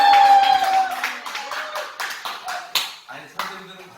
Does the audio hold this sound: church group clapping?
yes